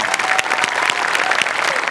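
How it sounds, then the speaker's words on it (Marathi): Loud, dense applause from a television comedy show's studio audience fills the whole stretch with steady clapping, with no talking over it. "जोरदार टाळ्या."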